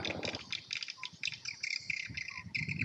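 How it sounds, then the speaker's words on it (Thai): Dense, high-pitched chirping and twittering from many swiftlets at once at a swiftlet nest farm house in Krabi, Thailand, continuous and fairly loud, with no one speaking. "ก่อนจะออกเราได้ยินเสียงนกร้องครับ"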